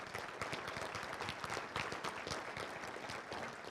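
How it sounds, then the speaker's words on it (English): An audience at an evening civic forum gives a round of applause, a dense steady patter of many hands clapping together at moderate distance for several seconds, with no talking over it. "Let's give them another round of applause."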